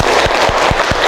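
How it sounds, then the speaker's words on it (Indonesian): Students of a class 11 science group in a classroom clapping loudly and close, a dense burst of hand claps with a few sharp individual smacks standing out across the short stretch. "Tepuk tangan untuk 11 IPA 1."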